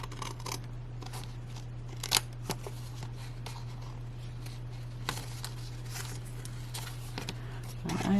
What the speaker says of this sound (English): Let's trim that in a little bit,